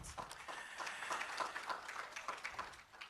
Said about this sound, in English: A big round of applause once again for Alex.